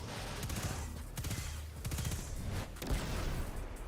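Sustained rapid gunfire as a magazine is emptied in the video game Destiny 2, a dense, loud, unbroken stream of shots with a few heavier impacts mixed in.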